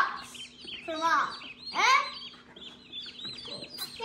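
Young duck chicks give high, rapid peeping calls in short bursts, close by, while people talk over them.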